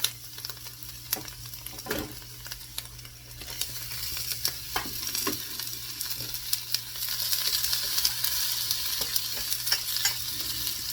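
Onions sizzle and fry in a hot pan for a 20-minute omelette alongside potatoes and mushrooms, a steady crackle with occasional sharp scrapes of stirring, close and moderately loud with no talk.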